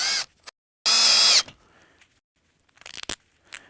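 Power drill driving screws through drywall into resilient channel in a home theatre room, two short high whining bursts with the second one longer, followed by scattered clicks and knocks of handling.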